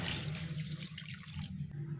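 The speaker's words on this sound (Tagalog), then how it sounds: "Sa puntong ito, pwede na tayong maglagay ng tubig." Water pours steadily into a pan of sautéed pork being cooked as pork with tausi, a continuous splashing gush that stops near the end, fairly quiet with no talking.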